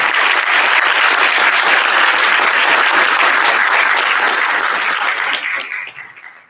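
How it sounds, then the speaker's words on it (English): Loud, close applause from the crowd at a regional spelling bee, honouring all the spellers after eighteen rounds; dense, even clapping that holds strongly for several seconds, then quickly tapers off to quiet. "Round of applause for all of our spellers."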